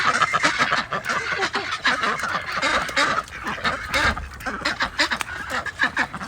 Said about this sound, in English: Look at them, so cute. I love ducks.